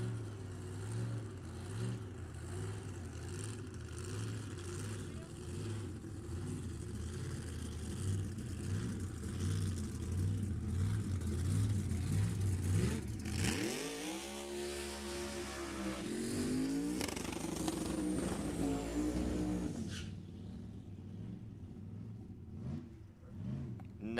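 A pair of drag race cars, AA gasser class, makes a straight pass down the strip; a loud sustained engine roar builds and shifts in pitch, swells sharply mid-run, then drops away as the cars pass into the distance.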